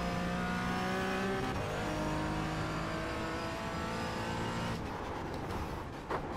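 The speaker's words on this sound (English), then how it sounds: "We'll be vrooming today. Porsche GT4 on Nürburgring, Nordschleife." Porsche GT4 race car engine lapping the Nürburgring Nordschleife in the iRacing sim, a loud steady drone with rising and falling gear pitches and a shift near the end.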